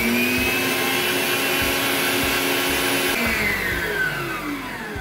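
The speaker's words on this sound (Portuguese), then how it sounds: "Ainda com a batedeira ligada, eu vou acrescentar aos poucos" Electric stand mixer steadily whirring as it beats a firm cream filling for a chocolate naked birthday cake, a continuous close motor drone that shifts slightly in pitch near the end.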